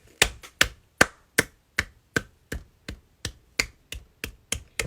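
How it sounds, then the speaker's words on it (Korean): Someone on an Instagram live stream gives a run of sharp single hand claps, about a dozen evenly spaced and close to the mic, with no talk over them. "박수."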